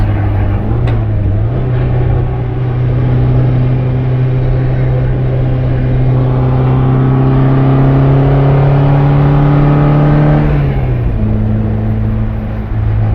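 A 1959 MGA Twin Cam drives on an Australian road test, its engine droning steadily and climbing in pitch as it accelerates through a gear, then dropping after a shift, loud and close inside the car.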